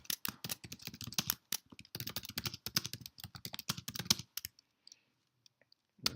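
Fast typing on a computer keyboard while composing a sentence, with dense clusters of close clicky keystrokes that stop near the end before one final click.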